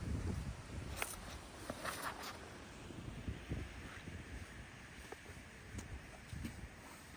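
Tailwind blowing across an outdoor disc golf field, a gusty, rushing wind buffeting the microphone with occasional soft thumps and no clear voices.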